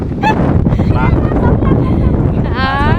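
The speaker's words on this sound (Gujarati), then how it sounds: "થોડોક પવન વધુ હોય છે, હવા વધુ આવતી હશે" Strong wind at a village seashore where a river meets the sea roars and buffets the microphone continuously and loudly, with faint voices partly audible beneath it.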